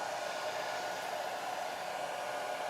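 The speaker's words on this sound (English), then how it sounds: "let me get the blow dryer" A blow dryer drying a watercolor painting runs as a steady, close, continuous airy whoosh with no talking over it.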